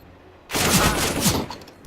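Gunfire in the competitive video game CS:GO, during a tournament match, bursts in suddenly and keeps going as rapid, loud shots for over a second, with a commentator talking over it.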